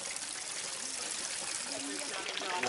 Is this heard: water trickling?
yes